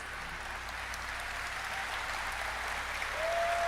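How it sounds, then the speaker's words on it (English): Steady applause from a crowd, a dense wash of clapping throughout that swells slightly near the end. "Applause"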